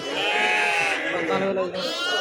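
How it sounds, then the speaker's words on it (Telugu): Sheep bleat loudly and continuously at a busy weekly sheep and goat market, several animals calling close by with overlapping cries amid crowd noise and people talking. "గొర్రెలు మాత్రం చాలా ఉన్నాయండి"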